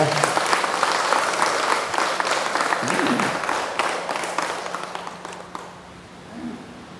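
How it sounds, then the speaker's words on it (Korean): A crowd claps steadily and loudly at a Buddhist dharma service, the applause gradually fading toward the end with a faint voice emerging. "큰 박수로 맞아주시기 바랍니다."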